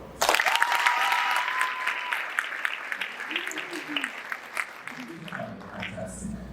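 A school audience at a prefects hustings gives a round of applause for a speaker's family, starting abruptly and loud, then thinning and tapering off while a few voices talk over the fading claps.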